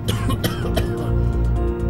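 A man with a severe cough coughs several times in quick, harsh bursts, close and fairly loud, with a throaty rasp between them.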